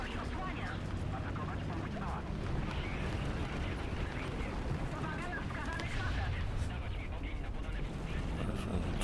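Artillery barrage landing on enemy positions in the tank game War Thunder, a steady dense rumble of distant blasts and crackling impacts throughout, mixed with other battle noise.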